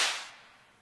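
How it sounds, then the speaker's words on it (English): A dubstep clap sample soaked in heavy reverb: one sharp, bright hit whose wide wash fades slowly over almost a second, heard alone. "This clap is like full of reverb to kind of just spread out the"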